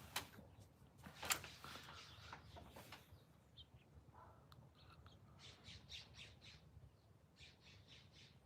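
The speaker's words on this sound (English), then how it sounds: "A lot of birds." Birds squawk loudly in a backyard with trees, harsh calls clustered at the start, then a brief pause before a series of repeated higher chirps and squawks. Some cries sound close and others farther off.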